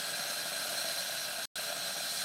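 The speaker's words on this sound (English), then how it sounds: "So the steam's built up." An Instant Pot pressure cooker releases steam in a loud, continuous hiss, broken by one very brief silent dropout before the hiss resumes.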